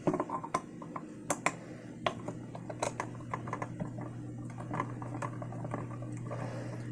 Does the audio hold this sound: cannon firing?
no